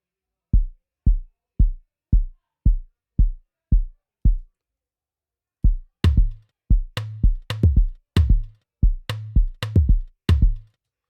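Kick drum pattern programmed in FL Studio for an amapiano beat: eight evenly spaced punchy kicks play alone, then after a short gap the kicks continue under a layer of percussive hits and a low sustained bass tone.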